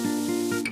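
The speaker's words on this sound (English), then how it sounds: "That is the sound of an instant caramel crust forming." French toast lands in hot butter and sizzles with a loud, steady hiss as a caramel crust forms, heard briefly and alone.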